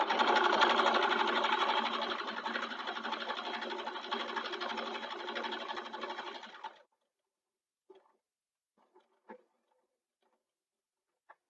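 A sewing machine stitches the bottom seam of a fabric sling, a steady, close, continuous run for several seconds before stopping, followed by a few faint clicks and handling sounds.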